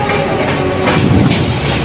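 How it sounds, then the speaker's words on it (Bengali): A train rolls past at a railway level crossing at Juran, a steady loud rumble of wagons and wheels filling the whole stretch without pause, with no speech over it. "আর একটা ট্রেন যাইতেছে"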